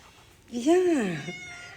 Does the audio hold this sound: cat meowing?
yes